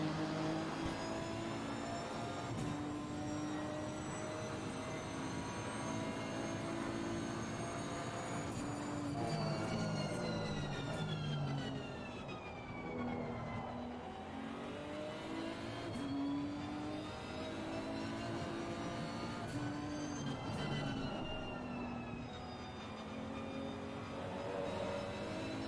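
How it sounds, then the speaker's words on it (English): Race car engine in a racing video game at Kyalami, revving and shifting gears continuously with rising and falling pitch sweeps, loud and steady throughout with no talking. "I love this car, by the way. Just appreciate the sound of gearing and all that stuff."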